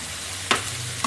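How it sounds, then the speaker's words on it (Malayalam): Ginger and garlic frying in a pan for prawns roast, a steady sizzle broken by one brief scrape of a spoon stirring midway and another at the end. "പിന്നെ ഇഞ്ചി വെളുത്തുള്ളി ഇട്ട് കൊടുക്കാം. ഇതൊന്ന് ഗോൾഡൻ ബ്രൗൺ ആവണവരെ നമുക്കൊന്ന് ഇളക്കി കൊടുക്കാം."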